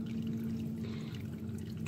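Water pours steadily into a flooded raised garden bed about 12 inches deep, planted with Brussels sprouts, a continuous close rushing and trickling wash with no voices over it.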